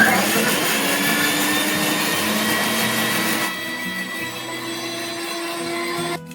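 An electric mixer grinder whirs steadily at close range as it blends raw mango pieces with salt into a paste, a loud continuous motor drone that drops in pitch partway through before it stops.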